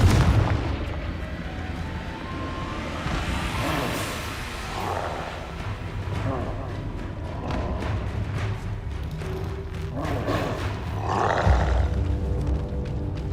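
A fire spell explodes in the Hogwarts Legacy video game, producing loud booming blasts and rolling rumbles over a dense, continuous bed of game effects and music, with heavier bursts recurring throughout.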